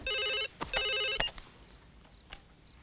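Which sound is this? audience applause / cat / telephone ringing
telephone ringing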